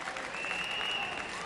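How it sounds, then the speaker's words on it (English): Sustained applause fills a stage show hall for Bob Hope at the Miss World 1970 pageant, a dense steady wash of clapping from a large audience with no pause. "it's a big round of applause for him now"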